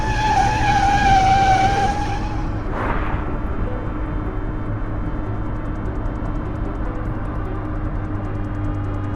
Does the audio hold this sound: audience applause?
no